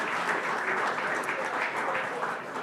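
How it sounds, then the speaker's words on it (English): Audience at a Central Oregon pub pitch event applauding steadily, a dense wash of clapping that stays loud and even throughout. "how about another round of applause for Matthew and Henry?"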